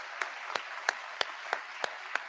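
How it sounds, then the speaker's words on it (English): A crowd at a rally applauds, steady soft clapping from a distance with a few sharper individual claps standing out at a regular pace. "Let's give them a round of applause."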